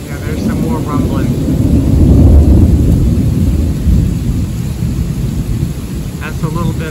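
Deep thunder rolls on loudly through a heavy thunderstorm with rain, a continuous low rumble swelling and easing over several seconds with no voices on top.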